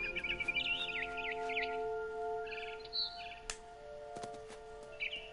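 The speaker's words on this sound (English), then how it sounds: "Then I heard chirping outside my window. It was a barn swallow going back to her nest." A barn swallow chirps in a video game, with quick bright tweets and trills in short bursts over sustained steady tones, fairly faint and without speech.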